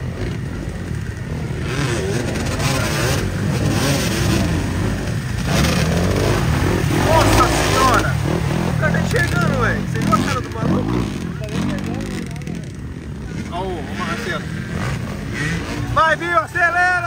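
Motocross motorcycles rev and accelerate on a muddy dirt track in Ibaraki, with engines whining and rising in pitch at middle distance while people talk loudly nearby throughout.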